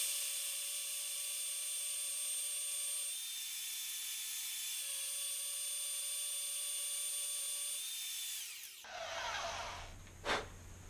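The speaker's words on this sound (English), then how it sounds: "We're going to make our third 3/4 inch cut." A power saw cuts a 3/4 inch slot into a steel forging blank, whining loudly and steadily in two long passes, then a clattering shuffle and a short sharp knock as it winds down.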